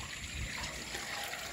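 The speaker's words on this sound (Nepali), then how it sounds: "ड्रेनमा पनि पानी कुद्दै छ" Rainwater runs along a road in Dharan, Nepal, overflowing from a broken drain, a steady close rushing trickle of flowing water with no voices.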